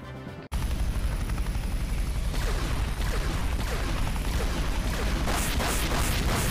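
A small helicopter unit in a real-time strategy video game whirs with steady rotor chop, joined by rattling gunfire-like bursts, loud and continuous.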